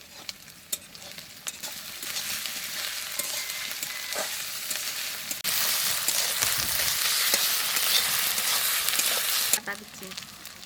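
Onion with ginger and garlic paste sizzles steadily in a hot pan, a close, dense frying hiss that swells louder midway as the mix is stirred, with faint scraping and a voice talking underneath.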